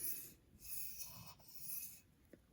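A knife blade is drawn across a Spyderco medium-grit bench stone in a few quiet, gritty rasping strokes, soft and close, with no voices.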